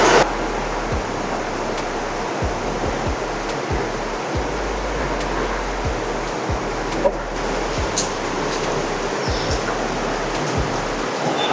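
The Lenggong River in Perak, Malaysia rushes steadily nearby, a constant broadband water roar with occasional low bumps, loud and unbroken.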